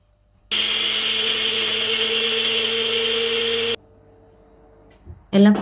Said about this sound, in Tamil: தேங்காய் பொட்டுக்கடலை பச்சை மிளகாய் கொஞ்சம் புளி அப்புறம் ஜீரகம் எல்லாம் போட்டு அதுவும் அரைச்சி வச்சிடலாம்